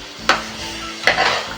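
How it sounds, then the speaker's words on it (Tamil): Rice is stirred in a cooking pot with two sharp scraping, clinking strokes about a second apart, over a faint background sizzle. "அதுக்கு அரிசி கழுவி போட்டு நல்லா கிண்டிட்டு மூடி வச்சிடறேன்"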